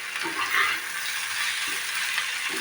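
Paneer bhujia frying with spices in a pan, a steady close sizzle with soft stirring scrapes running throughout, no voices.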